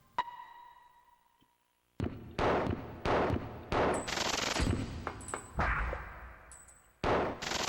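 Loud handgun shots ring out in the PS1 game Mask of Countdown Vampires, fired in a run of sharp bursts with echoing tails, alongside high electronic game tones.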